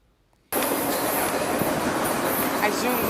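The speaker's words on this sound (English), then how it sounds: "there goes that intermodal with the NS leaders" An intermodal freight train led by NS locomotives rushes past suddenly after a quiet moment, with a loud, continuous roar of rolling cars and rail noise close by.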